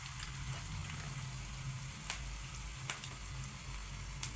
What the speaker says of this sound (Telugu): ఇలా ఎర్రగా వేయించుకోవాలి.